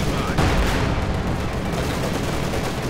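Dense, loud battle noise from tank gunfire in Company of Heroes 2, a continuous dense wash of shots and explosions filling the whole stretch with no clear gaps.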